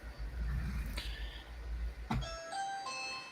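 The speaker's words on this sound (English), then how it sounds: "That's my doorbell." A doorbell chimes indoors, a two-tone ding-dong whose ringing tones linger and fade after a low background rumble.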